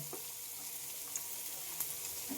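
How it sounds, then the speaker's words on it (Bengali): Chopped onions fry in a pan with a faint, steady sizzle, adding only a few small pops and taps from the pan along the way. "এবার পেঁয়াজটা একটু ভালোভাবে ভেজে নিতে হবে"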